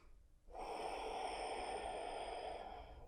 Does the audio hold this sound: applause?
no